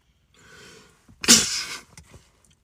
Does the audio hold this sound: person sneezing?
yes